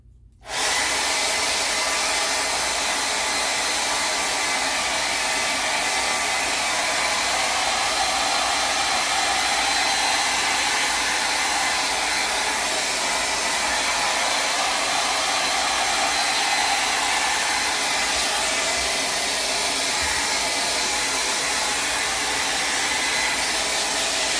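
A hair dryer blows continuously over wet decoupage paint, a loud, steady rushing whir that starts abruptly and holds without pause, with no talk over it.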